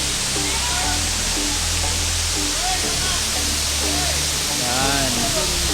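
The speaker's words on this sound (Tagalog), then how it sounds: "Yan ang Batlag Falls." Batlag Falls in Tanay, Rizal, a loud, constant roar of falling water that fills the whole clip, with people talking over it.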